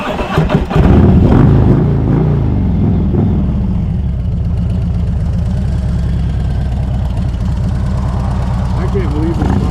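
SE Pro Street Tuner bike engine running loudly nearby, a steady low throbbing drone that settles into a pulsing idle, with a person talking over it.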